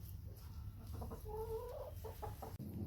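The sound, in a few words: hen clucking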